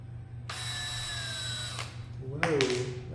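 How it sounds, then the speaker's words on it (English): Power drill driving screws into a model rocket for a Level 1 high-power rocketry build, one whirring run of over a second, then a second short burst as it winds down, loud and close. "a drill, and then the screws right here"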